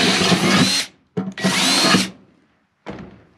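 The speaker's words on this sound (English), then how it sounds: "So for the final drill pass, we're going to be using a 21/64 drill bit" A power drill with a 21/64 bit bores through material in two loud, close bursts of high whine separated by a short pause, followed by a brief third spin-up.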